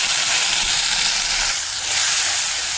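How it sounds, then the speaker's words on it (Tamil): Onion and garlic sautéing in a pan give a loud, steady, close sizzle and hiss that runs unbroken, with no talking. "வெங்காயம் பூண்டு நல்லா வதங்கிருச்சு"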